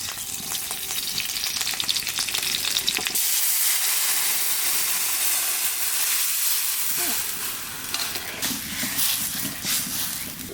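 Mustard water for shorshe ilish bubbles in a pan with hot oil, black cumin and green chilies, giving a loud, continuous sizzling hiss with crackles and steady boiling.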